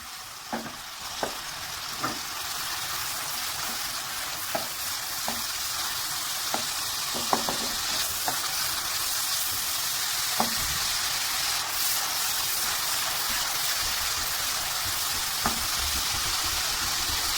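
Ingredients frying in a pan for daal chawal, with a continuous sizzle and a run of sharp spoon-on-pan clacks scattered irregularly through the first half, close and without talk.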